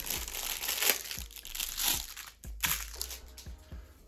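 Plastic packaging being unpacked, a bag inside a bag, crinkles and crumples in steady rustling bursts close up, with no speech.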